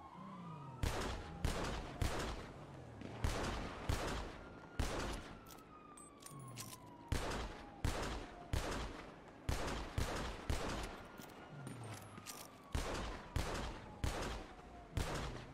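Rapid bursts of gunfire in the GTA V NoPixel roleplay game as cops are taken down, loud, repeated sharp shots in irregular clusters across the whole stretch, with a siren wailing underneath.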